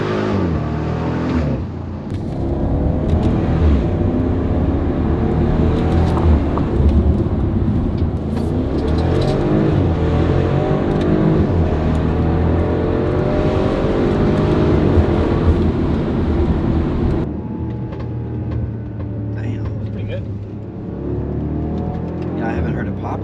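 BMW X5 50i V8 fitted with Valvetronic Designs universal mufflers, throttle blipped and feathered: a loud, steady exhaust drone with rising and falling revs across most of the stretch, easing off near the end, with someone talking over it.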